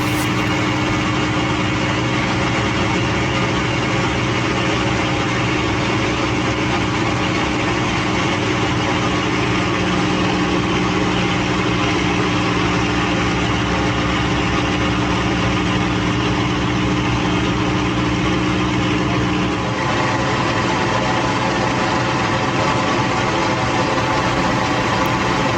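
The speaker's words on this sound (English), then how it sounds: "The Spitfire is a really maneuverable aircraft, and it's really nice to do steep turns like this." Supermarine Spitfire piston aero engine in flight during steep turns, a loud continuous droning roar heard from inside the aircraft, holding steady with a slight change in tone near the end, no talk.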